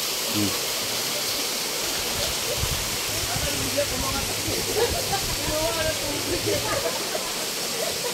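Kakawayan waterfall in Infanta, Quezon, a steady broad rush of falling and running water close by, with a voice talking faintly over it.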